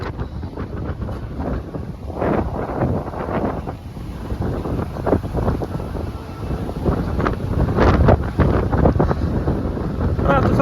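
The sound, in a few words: strong wind blowing on the coast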